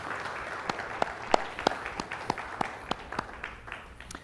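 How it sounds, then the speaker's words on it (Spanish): Sparse, slow clapping from a small church audience for the teachers, a handful of distinct claps spaced evenly over a faint room hum. "un aplauso fuerte para los maestros, para Miquela, para todos los que han estado apoyando"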